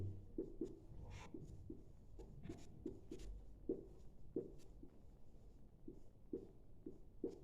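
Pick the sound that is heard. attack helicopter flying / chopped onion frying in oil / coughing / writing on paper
writing on paper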